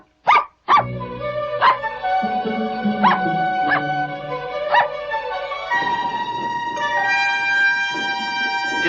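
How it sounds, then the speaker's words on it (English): Small dog barking in a string of sharp, evenly spaced yaps, close and fairly loud, with a soft rustling background that grows busier toward the end. "He was a smart little dog, and he ran to get Sparky."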